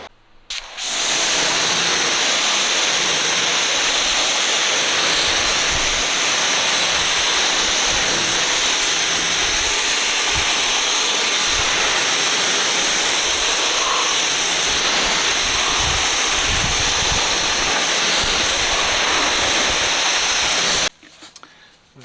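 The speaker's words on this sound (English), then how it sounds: "I use an Adams pressure washer" Adams pressure washer spraying a Datsun 510 car, a steady loud hiss of water jet lasting about twenty seconds, starting and stopping abruptly at each end.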